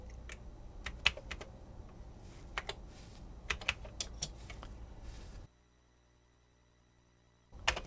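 Keys clatter on a Commodore C128 computer keyboard in bursts of quick, close taps for about five seconds, then a stretch of near silence before a final few keystrokes.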